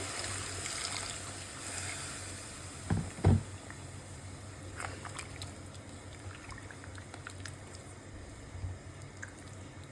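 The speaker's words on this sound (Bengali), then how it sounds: "এখনো মাংসের ভিতরে আমি দিয়ে দিচ্ছি ফুটন্ত গরম পানি" Boiling hot water is poured into beef cooking in a pot, a brief trickling splash early on followed by faint drips and low kitchen noise.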